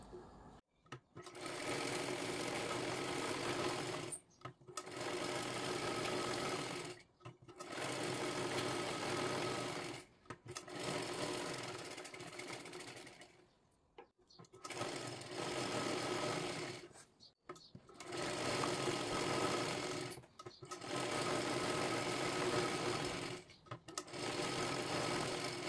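A sewing machine stitching a size 38 princess blouse runs in long steady bursts of several seconds each, separated by short pauses, fairly loud and close with no talking.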